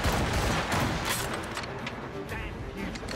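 Musket volleys and cannon fire in an Assassin's Creed Rogue naval battle, a dense, continuous barrage of booms and cracks near and far, with shouting voices mixed in.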